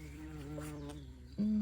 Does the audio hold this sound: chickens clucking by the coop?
no